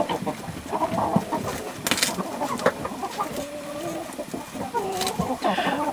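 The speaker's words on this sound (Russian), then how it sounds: "Ой, куры у меня тут дерутся." Farm chickens squabble and cluck close by, a steady run of agitated clucks and squawks with sharper cries scattered through, no talking over them.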